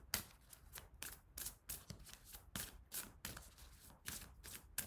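Cards from a Gaia oracle deck being handled and drawn: a close, soft, steady run of riffling and flicking card sounds at a quick even rhythm, quiet and with no talking.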